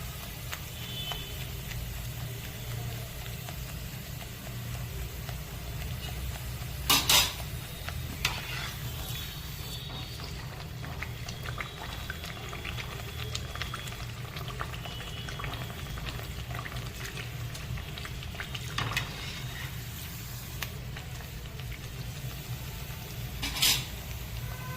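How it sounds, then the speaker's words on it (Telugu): Food fries in hot oil as a steady bubbling hiss, with a few sharp clinks of a utensil against the pan now and then, close and continuous with no talk. "సరేనా, మొత్తం మనం ఇలాగా కాల్చేసుకున్నాం ఆయిల్లో."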